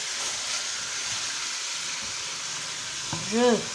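Minced beef sizzles steadily in a pan, with a soft scrape near the end as the meat is broken up.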